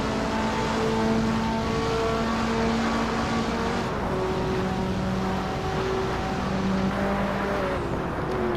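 Hot Wheels video game cars in a drag race, engines droning steadily with held tones that rise and shift in pitch as they run side by side at speed.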